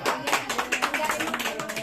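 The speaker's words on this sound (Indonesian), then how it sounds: "Tepuk tangan." Applause from a neighbourhood crowd at an RT 10 Indonesian Independence Day thanksgiving night, loud and near, a dense patter of many hands clapping over mixed voices.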